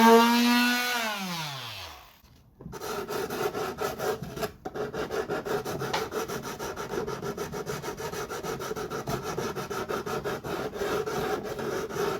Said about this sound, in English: Now the wood filler is dry, so I'm gonna sand it with 120.